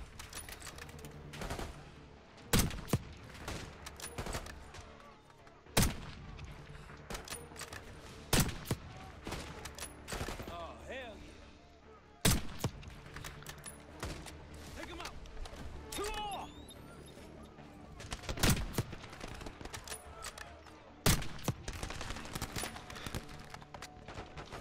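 Gunfire in the Black Ops 6 campaign finale, with sharp, loud shots and bursts breaking out at irregular intervals over a layered battle bed and radio-style voices giving orders.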